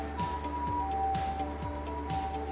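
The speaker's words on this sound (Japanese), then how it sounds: "心臓の話してる時に救急車の音が聞こえるっていうね、素晴らしい動画でございますけれども" An ambulance siren wails outside, its repeating rising tone faint and distant behind a room's steady hum, with no talk over it.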